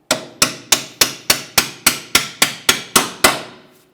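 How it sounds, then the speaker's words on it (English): Eleven sharp, evenly spaced small-hammer taps strike a metal part on a 2008-2017 Mitsubishi Lancer rear strut job, about three blows per second, each ringing briefly before the next. "I'm using a small hammer."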